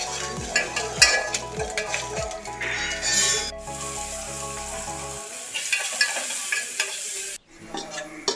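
Small onions, chopped shallots, are stirred and fried in a pan, a steady close sizzle with scraping stirs, at first under tonal background music and then nearly alone before a brief dropout.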